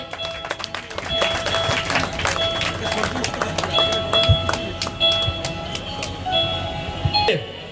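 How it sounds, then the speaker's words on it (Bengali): An audience applauds at a blood donation camp ceremony held by a village club, with scattered, uneven clapping rising and falling under continuing talk over a loudspeaker. "একটু করতালি দিয়ে সবাই"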